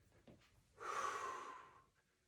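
A single deep, audible breath during a gentle exercise routine, a short faint sound followed by a long, rushing exhale-like breath that swells and fades, close and alone without talking.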